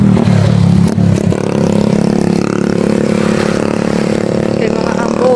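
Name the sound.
motorcycle engine revving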